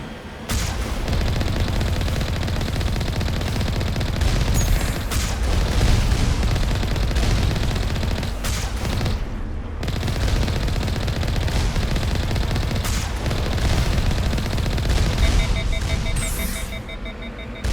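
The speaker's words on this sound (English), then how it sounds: "we have immediate rocket firing" Rockets fire during a firefight in Mass Effect Legendary Edition, with loud continuous bursts of gunfire, repeated heavy booms and alarm-like tones filling the whole stretch, and a voice talking at times.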